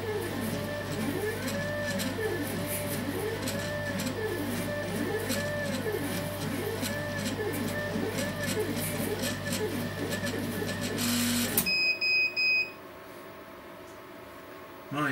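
A laser cutter runs a test pattern with a steady mechanical hum and repeating sweeping whirs of the moving head. After about eleven seconds it stops abruptly, followed by a few short electronic beeps and quieter room noise.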